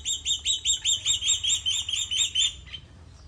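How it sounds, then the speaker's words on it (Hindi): Small birds in a village garden chirp in a quick, even series of bright repeated notes, about a dozen close together, then trail off into quiet background. "चिड़िया बोलती इतनी प्यारी लग रही है।"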